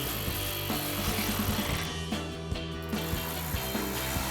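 A 1/4-inch socket tightening a bolt on a Barricade Cat Guard skid plate under a 2015-2025 Ford F-150, heard as a run of close, rhythmic mechanical clicks over a steady humming tone.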